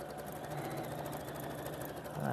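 A sewing machine runs steadily as it stitches a centre back seam with a 1 cm seam allowance, a continuous close mechanical hum with no break over the whole stretch.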